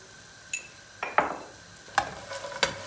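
A pan of bread slices with butter, oil, thyme and chili flakes is shaken, giving a few short, faint scrapes and clinks over a soft, quiet background.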